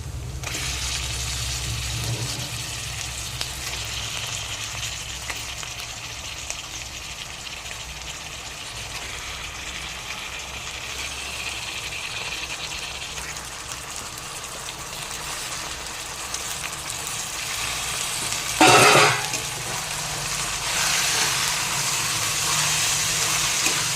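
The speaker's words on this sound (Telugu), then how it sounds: "ఈ ఉల్లిపాయలు అన్నీ వేగుతాయి అన్నమాట." Chicken pieces and onions fry together in a pan for chicken curry, giving a steady, rain-like hiss of hot oil that runs throughout, with a brief louder burst near the end.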